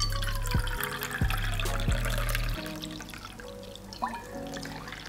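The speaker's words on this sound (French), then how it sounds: "Et on va rajouter une cup d'eau." A cup of water poured into a well of chickpea flour in a bowl, a steady trickling pour over a few seconds with a low tonal hum underneath, fairly faint and without talk.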